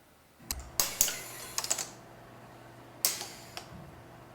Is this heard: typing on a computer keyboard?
yes